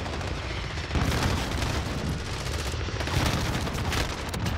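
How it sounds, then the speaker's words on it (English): Dense, loud bursts of rapid automatic gunfire and booming shots from the video game Call of Duty: Modern Warfare fill the whole stretch in a continuous, chaotic barrage. "Oh, I got shot in the back."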